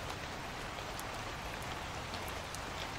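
Steady rain falling over a big city in the video game Night Security, a dense, even hiss of drops pattering on surfaces throughout, with no voices.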